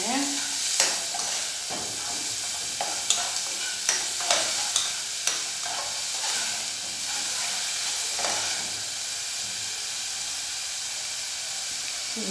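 Chopped onion sautéing in a pan for a gnocchi sauce, a bright continuous sizzle broken by a run of light taps and scrapes from a spoon, loud and close.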